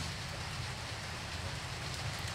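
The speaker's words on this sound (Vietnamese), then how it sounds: "mưa tới à" Steady rain falling outdoors, an even broadband hiss that stays constant throughout with no talk over it.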